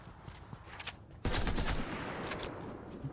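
Shotgun fire in the Fortnite video game comes through as a sudden loud blast partway through, followed by a sustained burst of rapid gunfire.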